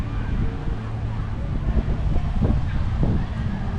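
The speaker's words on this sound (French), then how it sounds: "Pas mal de vent." Steady gusty wind buffets the microphone with low rumbling at an outdoor theme park, and a few faint bird calls poke through.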